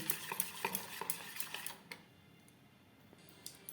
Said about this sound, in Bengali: প্রত্যেকবার ব্যাটারটা দেওয়ার সময় এইভাবে একটু ফেটিয়ে নেব